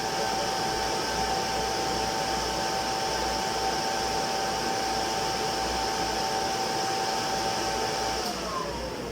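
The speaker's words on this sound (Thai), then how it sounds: "พัดลมของตัวเครื่องอ่ะมันจะหมุนค่อนข้างนานกว่าที่มันจะดับนะครับ" A MIG/MAG welding machine's internal cooling fan, modified with added capacitors, whirs steadily with a bright whine after being switched off. Near the end the tone slides down as the fan starts to wind down.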